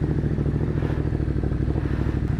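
A 2021 Ducati Monster 937 motorcycle engine runs steadily at close range with a low, throbbing rumble, no voices over it.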